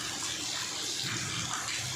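Rainwater pouring steadily into a metal basin, a continuous close hiss and splash of running water with no voices.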